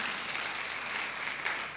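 A church congregation applauds during a Sunday worship service, a steady wash of clapping held at an even level throughout, with no voices rising above it.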